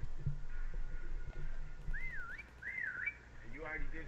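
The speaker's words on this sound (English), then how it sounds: "they're about to whistle here" A prop player's whistle sounds in Call of Duty WWII Prop Hunt, a short rising-and-falling tonal whistle followed by a second warbling one, heard mid-level over steady game background noise.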